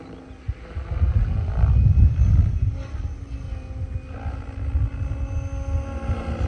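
A Goosky RC helicopter flies at low rotor speed, its rotors and motor making a loud, close droning whir that rises in a throaty surge, then settles into a steady hum with a thin whine above it.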